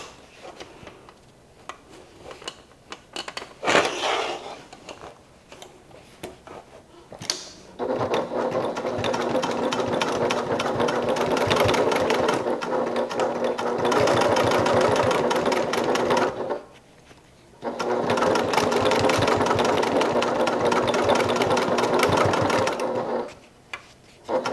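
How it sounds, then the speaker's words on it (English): A sewing machine back stitches over the bottom seam of a crossbody bag, running in two long steady bursts separated by brief pauses, with softer handling noises at the start. "I'm just going to back stitch over this seam."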